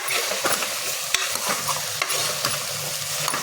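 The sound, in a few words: vegetable pieces added to pan and stirred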